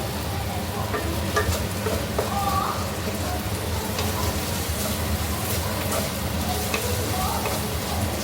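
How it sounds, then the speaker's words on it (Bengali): Potatoes, onion and chilli frying in oil with garlic, a steady close sizzle running throughout with occasional stirring scrapes, faint voices and busy background noise mixed in. "তারপরে আলু পেঁয়াজ লঙ্কাটা ভেজে নিচ্ছি"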